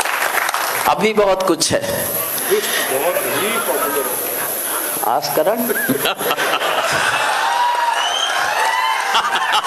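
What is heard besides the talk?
audience clapping at a poetry recital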